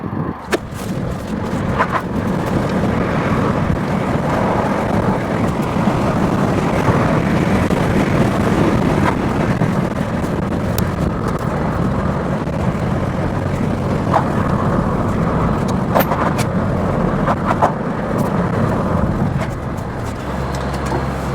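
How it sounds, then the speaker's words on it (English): A Peugeot 407 engine pulls steadily uphill in sixth gear, a loud, continuous low drone with road and wind noise around it. Nobody speaks while it runs. "It's definitely not what you would call a quiet engine."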